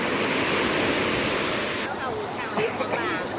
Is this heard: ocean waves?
yes